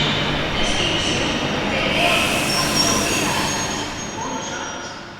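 A train in Catalonia rumbles along the rails with a steady, broad roar and faint high wheel squeals, close and continuous, with people talking underneath.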